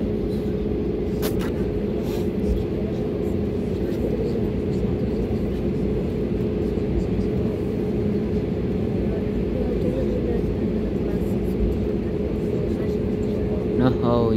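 Airliner engines at full takeoff thrust from Frankfurt, a loud steady roar with a constant tonal hum throughout, while people talk over it.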